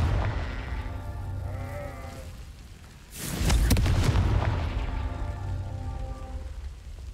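The Confringo fire spell in the Hogwarts Legacy video game bursts into a single loud, sudden explosion midway, with a crackling rush that fades slowly into steady game ambience.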